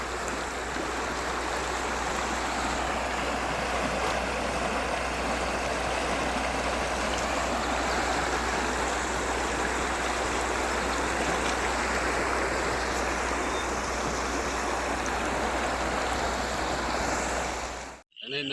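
Water pouring from a lake near its embankment in Davanagere, a loud, close, unbroken roaring rush that holds steady throughout before cutting off abruptly at the end.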